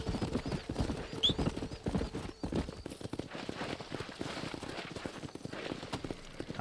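Hooves pound in a fast steady gallop as a horse runs in Red Dead Redemption, the dense rhythmic clatter loud and near under a faint wash of game ambience.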